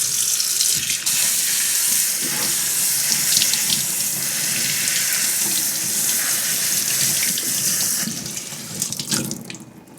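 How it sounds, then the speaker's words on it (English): A kitchen faucet runs strongly over rice in a sink as it is rinsed, a steady close rush of water for about nine seconds that thins out with splashy handling at the end. "But I always rinse my rice."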